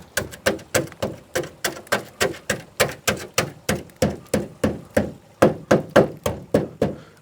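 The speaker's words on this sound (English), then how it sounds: "I'm going to get a hammer." A hammer knocks repeatedly on the corroded bonnet of a barn-find Proton Saga Iswara, giving about two dozen sharp, close, evenly spaced metallic thuds with no talk.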